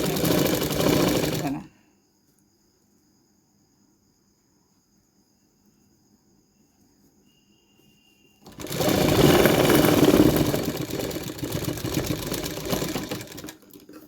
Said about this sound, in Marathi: जिथपर्यंत टीप आहे तिथपर्यंत हा कपडा न्यायचा आहे आणि बरोबर मधोमध टीप मारायची बघा